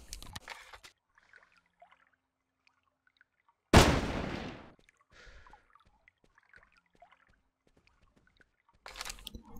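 A single loud scout rifle shot from the hunting game Carnivores Fallen Kings, set in an Everglades map, rings out with a sharp crack and decaying tail amid quiet, with faint ambient rustles before and after.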